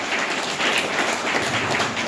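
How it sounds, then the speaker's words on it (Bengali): An audience applauds at the inauguration of an apprenticeship awareness workshop in Purulia, giving a steady, dense patter of many hands clapping at once that fills the whole stretch without pause. "আপনারা হাততালি দেবেন একটু"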